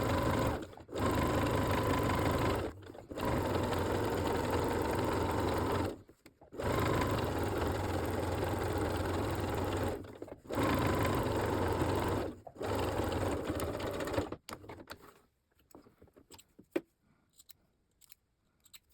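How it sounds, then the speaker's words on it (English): A sewing machine runs a straight top stitch around the edge of a reusable cloth sanitary pad in several loud, steady bursts broken by short pauses, then ends in scattered light clicks and handling noises. "Top stitch around the entire pad close the edge using a straight stitch."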